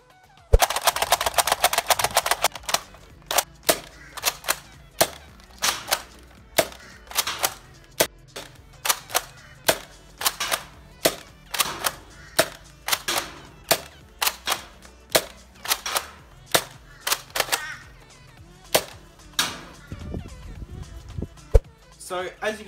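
A modified Nerf Tri-Strike springer blaster fires a long series of sharp, loud snapping shots at a steady, roughly one-per-second rhythm, close up, with some mechanical clacks between shots.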